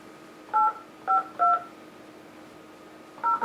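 Touch-tone telephone keypad dialed live on a racing talk show, sending four short paired beeps, three in a quick cluster and a fourth after a pause, clear over a quiet studio background.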